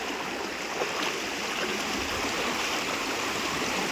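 Stream water flowing steadily, a dense even rush and gurgle heard close by with no pauses or other sounds on top.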